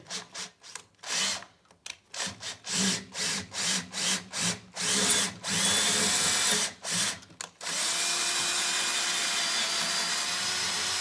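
A power drill taps an M10 thread into a 140-year-old Husqvarna 45A cast wood heater, running in short, repeated bursts with pauses between, then settling into a steady whir at close range.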